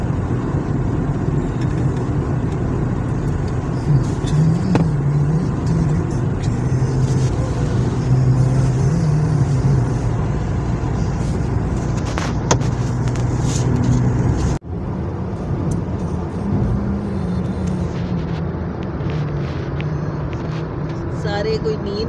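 A car drives onto the motorway from the Samundri toll plaza heading back to Lahore, giving a steady, loud interior road rumble and tyre roar with a brief dip midway, and a voice talks faintly under it.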